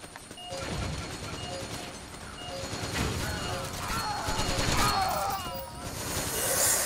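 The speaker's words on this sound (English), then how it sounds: "People are just standing up in the roof shooting" Rapid gunfire in the video game Metal Gear Online, repeated shots and bursts against a busy mix of game noise, continuous and fairly loud, with some faint voices.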